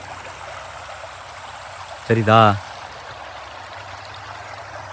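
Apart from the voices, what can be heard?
fast water flowing through village irrigation canal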